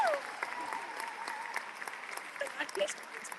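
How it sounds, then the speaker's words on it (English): Audience applause rolls along as a steady, moderately faint patter of many hands, with a few whoops and voices rising over the clapping. "Give a round of applause, everyone."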